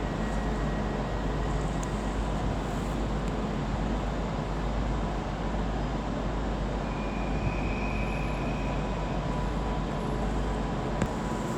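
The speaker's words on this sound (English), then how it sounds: "39039 is now departing with the 1643 Avanti West Coast service to London Euston" Avanti West Coast train 39039 pulling out of Liverpool Lime Street on the 1643 service to London Euston, a steady low rumble and hum of the departing train filling the station, continuous and moderately loud with faint higher whines.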